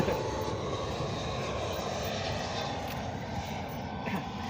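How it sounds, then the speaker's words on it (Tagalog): An airplane roars overhead, a broad steady rumble with a hissing wash that stays loud throughout, no talking. "Saktong daan ng aeroplano, maingay."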